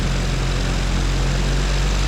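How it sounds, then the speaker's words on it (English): A Zenith Cruzer light aircraft's propeller engine roars steadily at close range during a normal takeoff run, a loud, continuous drone with a low hum and broadband rush, no voices over it. "we're going to do just a normal takeoff, and I'll have the stick back about just a little bit past the neutral setting, and then ease in the power"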